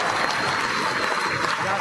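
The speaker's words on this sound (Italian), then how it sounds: "Stanno facendo gli applausi" Steady applause from a live audience at a fantasy LARP and role-playing event, continuous and fairly dense clapping filling the whole moment without pause.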